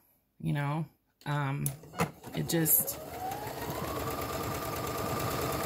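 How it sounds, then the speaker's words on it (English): A Brother sewing machine with a buttonhole attachment stitching a buttonhole: a brief bit of talk, then the motor spins up and settles into a steady, fast mechanical whir. "the machine does all the work,"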